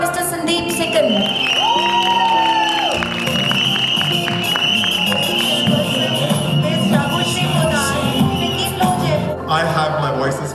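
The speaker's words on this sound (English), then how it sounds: "So round of applause for Mr. Sandeep Sikand." Audience applause and cheering fill an indoor theatre evening in Jaipur, sustained clapping and crowd noise with scattered shouts, beneath amplified sound and a voice over the hall.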